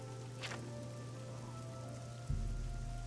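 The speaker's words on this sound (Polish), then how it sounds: "Akurat pada deszcz." Rain falling in The Elder Scrolls IV: Oblivion, a faint, steady patter spread over a low ambient hum, with a deeper rumble rising near the end.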